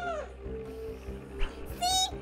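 A cat meows twice in the Toca Life City video game, a short call near the start and a brighter, rising meow near the end, over a low steady background hum.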